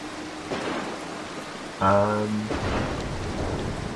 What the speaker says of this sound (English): what happens when lightning strike is about to happen? Well, the thunder goes, then the lightning goes